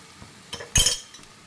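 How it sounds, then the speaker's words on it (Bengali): Ash gourd curry finished with ghee gets a quick stir, one sharp clank of a metal spoon against the pot flanked by a couple of faint scrapes, close and otherwise quiet. "এবার আমি এটাকে একটু নাড়াচাড়া করে নেব"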